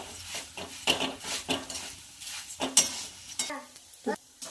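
Flattened rice (poha) fries in a pan for crispy poha chivda, with a spatula scraping and clinking against the metal in irregular strokes over a soft, steady sizzle. No one speaks.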